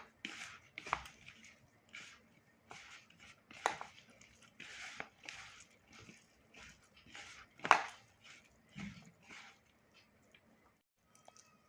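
Jackfruit pakora batter with cornflour and gram flour being kneaded by hand gives faint, wet squelches and soft clicks in an irregular rhythm, close by with no talking.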